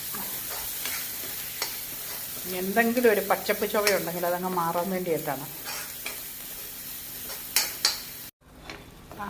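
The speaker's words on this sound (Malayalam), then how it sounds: "കടു വറുപ്പതിനകത്ത് നന്നായിട്ട് ഇളക്കി ചെറിയ തീയിലാക്കിയിട്ട് ഇളക്കി കൊടുക്കണം" Masala sizzles in a pan over a low flame with tempered mustard seeds, stirred steadily with soft scrapes and clinks. A voice talks through the middle stretch.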